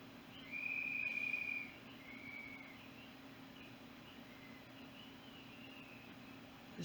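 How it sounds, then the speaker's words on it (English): A whistle blown to call for help at home, one long shrill clear blast followed by a few softer, shorter whistle tones, heard over a steady low background hum. "There's the fucking whistle."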